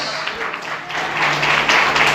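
A church congregation applauds, scattered claps growing into fuller, louder clapping toward the end, with some voices mixed in.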